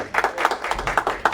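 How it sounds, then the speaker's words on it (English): A short burst of crowd applause at a Johannesburg 10km road race press conference, dense overlapping claps fairly close and at a steady level. "let's give them a round of applause"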